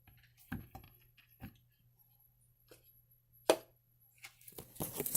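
Bananas being cut on a board at home: a scattering of soft, irregular knife taps and thuds, moderately close, with a few sharper knocks and a busier clatter near the end, no talking.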